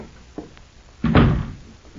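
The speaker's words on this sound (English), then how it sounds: "let me open the door for you" A door being opened in an old-time radio drama, with a small knock near the start and then a heavier thud-and-rattle of the door swinging at mid-clip, close and fairly loud with no talk.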